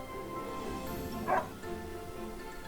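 A small puppy yips once in the game Another Code: Recollection, a brief high bark rising over a steady musical backdrop.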